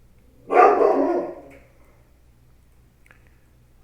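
A dog barks at neighbors outside, one loud, close bark that trails off quickly, followed by near silence.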